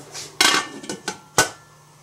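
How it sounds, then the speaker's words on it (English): Metal lid set onto a pot of simmering collard greens, a few sharp close clanks and rattles in quick succession, then quiet. "now we're going to put the lid on and turn down the light so it can simmer"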